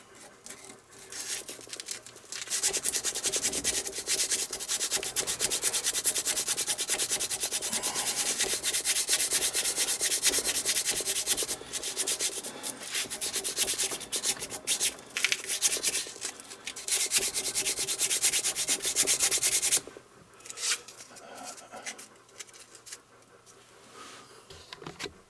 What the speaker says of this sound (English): I'm just wrapping emery cloth around a dowel.